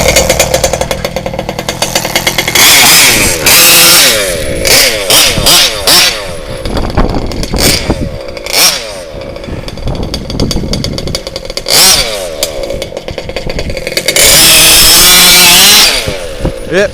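An HPI Baja RC car with an RCMAX 90 GT engine screams loudly up close, revving in sharp bursts between raspy idling, with high-pitched buzzing wails that rise and fall as it speeds past.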